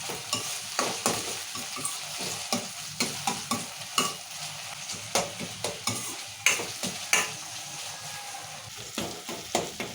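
Chopped tomatoes frying in a pan for desi-style pasta, a bright close sizzle broken by rhythmic scraping strokes of a spatula stirring every second or so, with no voices.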